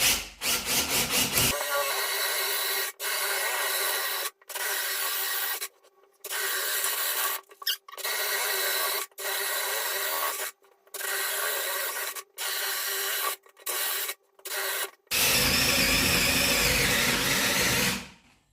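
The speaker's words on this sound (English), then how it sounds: "let's move it, continue drilling." A Parkside 12-volt cordless drill whirs in repeated bursts, starting and stopping many times as its battery runs down, with a louder, longer run at the end.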